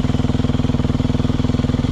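An enduro motorcycle engine pulses in a fast, even rhythm as the bike is ridden. The thumping is loud and close, with a steady low drone and no voices.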